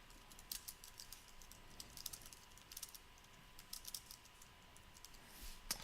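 Soft, rapid keystrokes clatter on a computer keyboard in uneven bursts, quiet and close, with no talking.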